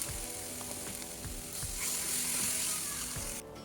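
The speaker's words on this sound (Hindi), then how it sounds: "अब इसमें जो प्याज और टमाटर का पेस्ट बनाया है इसको डाल के भूनेंगे" Onion and tomato paste frying in butter in a pan for a dhaba-style paneer gravy: a steady, close sizzle with scattered ticks and scrapes from stirring, and no talk.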